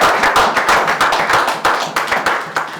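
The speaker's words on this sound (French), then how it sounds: "Acclamez pour Jésus." A church congregation claps in unison at a French-speaking service, a loud, close, even rhythm of sharp claps repeating about four times a second with no talking.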